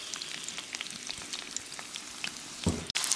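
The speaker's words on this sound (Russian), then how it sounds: "Пока у меня обжаривается лук" Steady crackling sizzle of onion frying in hot oil for Korean-style beets, with scattered pops and a louder clatter near the end.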